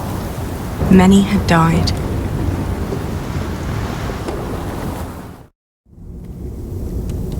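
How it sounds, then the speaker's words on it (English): A heavy thunderstorm with driving rain in the Pillars of the Earth video game forms a dense, continuous roar, with a narrator speaking briefly over it. The sound drops out for a moment near the end and then resumes. "4 weeks the storm had raged on."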